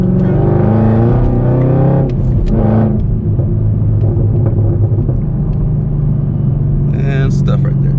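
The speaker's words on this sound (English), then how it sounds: "Exhaust going nuts." A Chevrolet Camaro ZL1's exhaust rumbles loudly and deeply from inside the car while driving, with a steady low drone and some surges, and a person talks over it.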